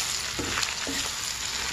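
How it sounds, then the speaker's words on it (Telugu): Fried boneless chicken pieces are stirred into Andhra-style chicken pickle in a pan, filling the moment with a loud, dense, continuous sizzle and a couple of brief scraping strokes. "ఎర్రగా వేయించుకున్న బోన్లెస్ చికెన్ ముక్కలను కూడా పచ్చడికి ఈ విధముగా వేసుకొని 1-2 నిమిషాలు ఇలా కలుపుకోవాలి"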